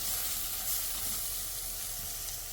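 Coriander, mint and curry leaves go into a pan of hot coconut oil and sautéed aromatics, giving a steady close-up sizzle and hiss that holds even and unbroken throughout, with no talk.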